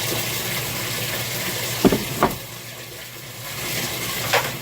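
OxiClean being stirred into water for laundry, a steady wet swishing with a few brief splashy knocks, close by and with no voices.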